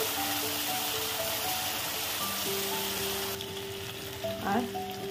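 Mustard paste with salt and spices frying over a low gas flame, with a steady close sizzle and a few faint scrapes of stirring across the whole stretch.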